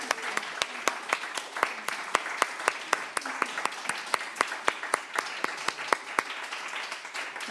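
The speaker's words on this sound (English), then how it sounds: "Can we have another round of applause?" A round of audience applause at a church service, with a few people clapping in a steady, fairly even rhythm, each clap sharp and distinct, moderately close and without talk.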